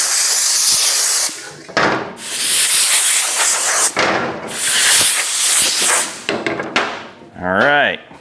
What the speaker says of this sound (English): I am going to blow them out though with compressed air